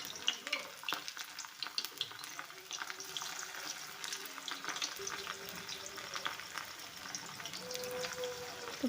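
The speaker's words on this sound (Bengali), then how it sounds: "রাখা কাঁচা কলাগুলো তেলের মধ্যে অল্প অল্প করে দিয়ে ভেজে নেব।" Raw banana slices fry in hot oil in a wok, giving a steady, fairly soft sizzle with occasional stirring clinks and scrapes throughout.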